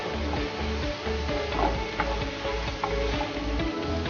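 Half-softened sliced onions sautéing in a pan for a Kerala-style chicken dish, a close, continuous sizzle broken by the scraping and clatter of stirring, with no voices.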